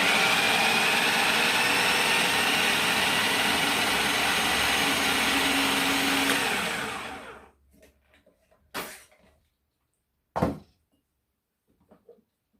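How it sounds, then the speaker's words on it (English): A food processor blending vegan sausage ingredients runs with a loud, steady whir for about seven seconds, then winds down to silence, followed by two brief clunks of the lid or bowl. "the food processor."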